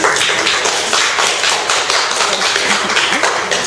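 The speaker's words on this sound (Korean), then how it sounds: "박수 부탁드리겠습니다" Audience applause at a poetry lecture in Gunsan, a dense, steady wash of many hands clapping close by, sustained without a break and with no talking over it.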